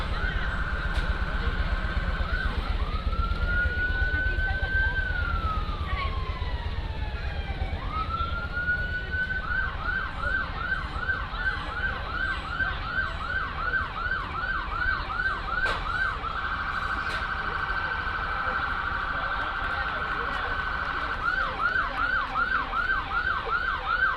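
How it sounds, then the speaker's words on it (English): Police sirens from Tennessee Highway Patrol and Humboldt Police cars wail loudly as they pass along a strawberry festival parade route, rising and falling in repeated sweeping cycles and then a fast yelp, over a continuous rumble of road traffic. "You'll start to hear the police sirens coming by, maybe a little loud for us here."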